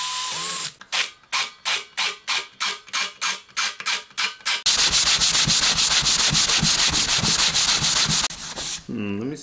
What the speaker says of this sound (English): I used a belt sander.